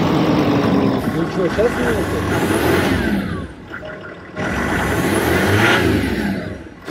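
Range Rover engine starting and revving up in bursts, a loud mid-pitched roar that dips and returns, with someone talking over it.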